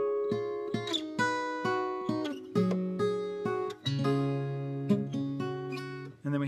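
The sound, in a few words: acoustic guitar with capo playing part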